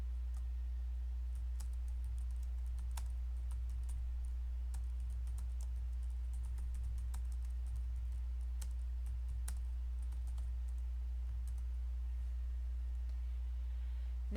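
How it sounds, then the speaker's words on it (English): Keys clicking on a computer keyboard while a tweet is typed: faint, scattered taps over a steady low electrical hum, with no voice heard. "Then I will type my tweet in the box."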